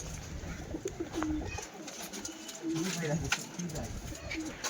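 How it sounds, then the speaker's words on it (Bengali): Several pigeons coo in low, repeated throaty calls nearby, with a busy murmur of background noise and other birds throughout. "প্রচুর পায়রা আছে, প্রচুর, সব ছেলে।"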